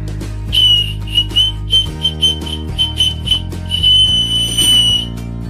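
Shrill, piercing whistle from a whistling candy lollipop blown in short repeated bursts, loud and close, followed by a longer sustained tone, over a steady background hum.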